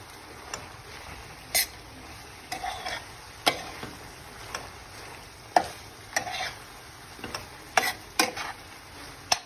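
Bulgur pilaf with potatoes and vegetables being stirred in a pot, a quiet hiss broken by irregular soft scraping strokes spaced about a second apart, with no talking.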